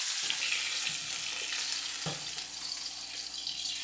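Johnsonville turkey sausages browning in a pan make a steady, close sizzle with bursts of spattering fat, broken by a couple of soft knocks as the links are turned.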